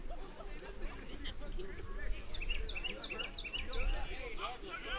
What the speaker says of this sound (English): I haven't heard a bird chirp all game, and then out of nowhere, there it is.